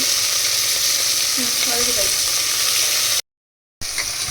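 Onions sizzle and fry in a hot pan for a biryani, a steady bright crackling hiss with a few stirring scrapes, close and loud, briefly cut to silence before the sizzle resumes.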